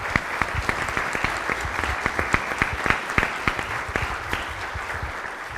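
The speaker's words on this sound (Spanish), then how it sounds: "Un aplauso." A crowd at a judicial conference on restorative justice claps steadily and densely for several seconds, a continuous roar of hand claps with a few sharper, louder claps standing out.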